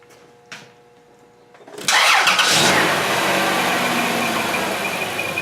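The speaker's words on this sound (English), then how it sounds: "Let's see if we can get this thing started." A car engine cranks and catches after a couple of faint clicks, then settles into a loud, steady run with a high squealing whine from a worn belt, close by and with no talk.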